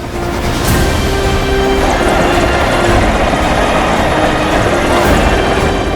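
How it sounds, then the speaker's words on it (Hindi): Helicopter flying overhead during a Lok Sabha election campaign rally tour, a steady loud rotor and engine roar lasting throughout with no pauses. "आकाश की बुलंदियों पर नेताजी के उड़ते हेलीकॉप्टर होंगे।"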